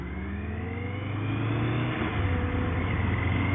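A car speeds along a 30 limit road, engine note rising as it accelerates and sweeps past, a steady loud whirring roar with a pitch shift midway, no voices.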